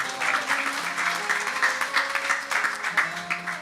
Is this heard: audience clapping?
yes